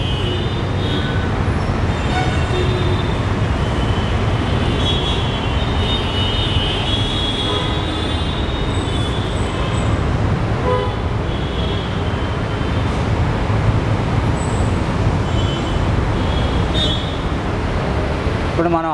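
Steady, loud street traffic rumbles beneath Musapet metro station in Hyderabad, a dense continuous wash of engines and rolling noise with no pauses.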